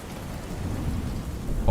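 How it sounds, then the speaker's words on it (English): Steady rain patters against a window, a dense, continuous hiss of drops with low rumbling beneath and a slightly louder burst at the very end; no voices. "All that was left was the sound of the raindrops clicking against the window."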